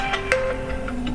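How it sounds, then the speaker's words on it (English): A phone alarm rings in a steady electronic pattern with a ticking pulse, heard late at night over a constant background hum. "my alarm is ringing right now"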